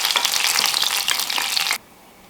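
Shrimp frying in hot oil for a prawn biryani, a dense steady sizzle with crackling pops that cuts off abruptly near the end, leaving near silence.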